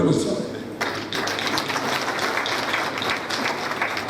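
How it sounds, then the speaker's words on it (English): A large crowd applauds at a graduation ceremony, a dense and steady wash of clapping that stays loud and unbroken from start to finish. "I think he deserves a bigger round of applause than that."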